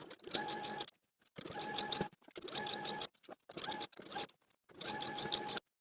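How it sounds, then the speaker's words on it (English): Sewing machine stitching the top seam of a skirt, five quiet bursts of rapid mechanical whirring separated by short pauses. "take it to your sewing machine and stitch all around the top of the skirt"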